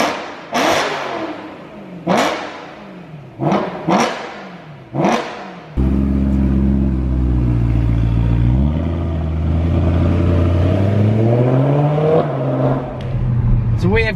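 A remapped BMW E92 M3 pulls away and accelerates hard, its engine note rising loud and near through repeated gear changes, after several short bursts of revving at the start.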